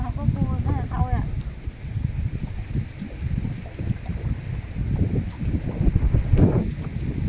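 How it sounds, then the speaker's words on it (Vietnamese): Strong wind buffeting the microphone on a moving boat out checking crab traps, a constant rumbling roar with voices talking over it. "mình trên đây gió quá. Gió quá gió."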